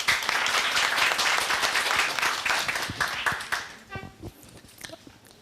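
Audience applause at an anniversary event of a senior center, loud dense clapping for about four seconds that tapers into a few scattered claps.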